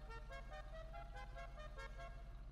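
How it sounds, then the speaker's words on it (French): An old-style musical klaxon plays a short, pulsing run of bright harmonic tones over a constant low engine hum, fairly faint and steady throughout. "Elle est vachement stylée, ce klaxon là, il est vachement stylé."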